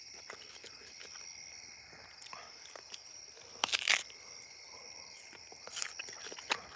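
A couple of crisp crunching bites into firm, unripe fruit, crunchy like an apple, close and sharp, over a faint outdoor farm background of insects chirping.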